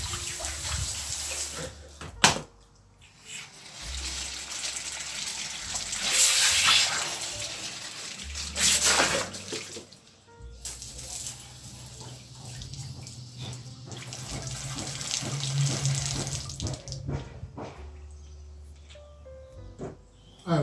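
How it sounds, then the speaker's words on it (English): Clean water runs and splashes while a Vevor paint spray gun is flushed out after spraying a room, the flow surging and pausing in uneven bursts with brief clatters, close by. "When you're happy with it, again, give it a flush off with clean water."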